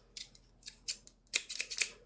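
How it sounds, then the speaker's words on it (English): Scissors snip through paper while cutting out shapes for a handmade watercolor butterfly card, a series of crisp close cuts, sparse at first and then quicker and louder. "What I think I am going to do is just use some scissors"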